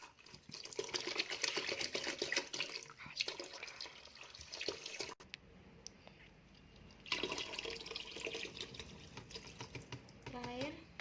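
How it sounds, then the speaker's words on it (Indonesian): Water running and splashing into a container, fairly quiet and steady, with a brief pause in the middle before the flow resumes; a voice can be heard faintly in the background. "Setelah itu kita tambahkan air ke dalam wadah sebanyak"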